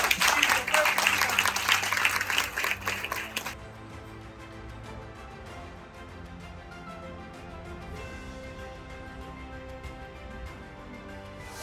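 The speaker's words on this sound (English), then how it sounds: "give her a round of applause." Applause at a mind-development workshop session, a loud burst of many hands clapping that cuts off abruptly after a few seconds, followed by soft tonal background music with no voices.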